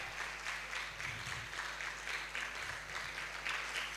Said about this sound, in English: Let's keep clapping till she comes here.